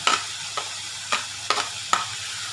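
Chopped vegetables and tomato sizzle steadily in a pan for chicken cheese murtabak stuffing, broken by about five sharp scraping strokes of a spoon stirring at an even pace, close and clear, with no voices.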